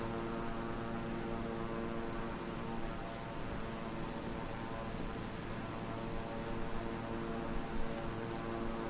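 A King Air propeller aircraft in flight gives a steady, even drone with a constant hum and hiss, heard from inside the cabin and unchanging throughout.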